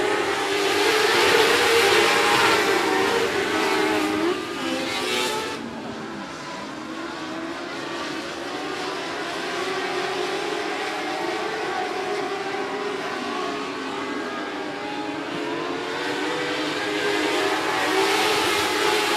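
Race cars thundering around an oval speedway under green flag racing, engines roaring loud and continuous, swelling and fading as the pack passes, with a sharp whine rising early on.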